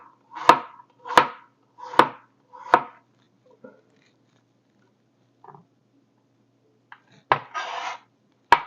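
A knife chops onion into chunks on a board: four firm, evenly spaced cuts up close, then a pause with faint clinks, and a couple more cuts with a scraping sound at the end.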